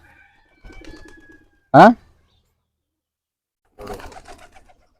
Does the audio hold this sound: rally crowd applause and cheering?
no